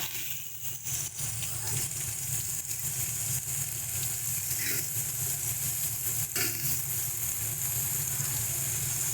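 Ridge gourd dropped into hot oil for a vegetarian chorchori with pumpkin and aubergine, giving a steady, loud broadband sizzle that carries through the whole stretch with occasional faint stirring scrapes.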